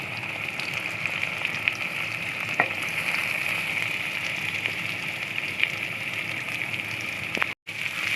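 Onions frying in hot oil with cumin seeds give off a steady, dense sizzle that crackles evenly throughout, with a few sharper pops now and then and a brief dropout near the end.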